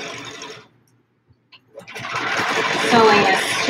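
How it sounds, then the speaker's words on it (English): A sewing machine stitching a square spiral quilt: a short whir, a near-silent pause with a couple of clicks, then the motor speeds back up into a steady, close hum. "sewing as straight as I can, and also trying to make my 3/4 of an inch the same every time"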